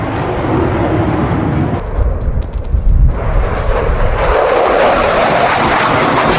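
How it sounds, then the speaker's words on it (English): JAS-39 Gripen, a light, agile fighter jet, roars past with a loud, continuous broadband jet rumble that swells and shifts as it flies by, with no voices. "JAS-39 Gripen. Thoughtful, this light, agile, and cost-effective fighter is perfect for rapid deployment and excels in harsh conditions"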